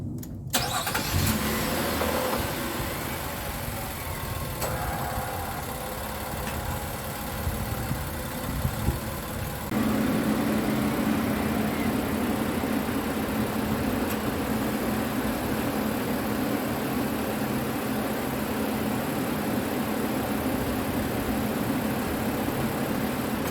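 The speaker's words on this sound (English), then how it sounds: "now I'm going to start the engine and take this vehicle off the ramps" A 2017 Nissan Pathfinder 3.5 cranks and fires up, then settles into a steady, fairly loud idle that continues unbroken for over twenty seconds with no talking.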